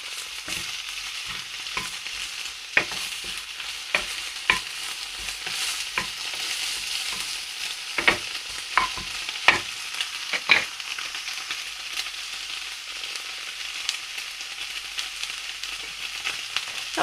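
Onions sizzle steadily in a hot pan as they soften, with sharp scraping clicks from stirring scattered throughout; no voices.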